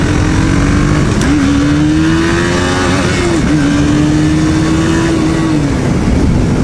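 A KTM Duke 200 motorcycle engine held at wide open throttle on a road ride, droning loud and steady throughout, its pitch rising and dipping slightly with throttle changes over heavy wind rush.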